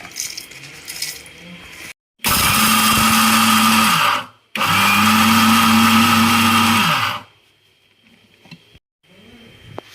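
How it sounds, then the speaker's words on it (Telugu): A kitchen mixer grinder pulverises garlic, salt and dried red chillies for an ivy gourd chutney, running in two loud whirring bursts of about two seconds each, separated by a short pause, with no voices. "ఉప్పు, ఎండుమిరపకాయలు, ఈ మూడు వేసుకొని మిక్సీ పట్టుకోండి."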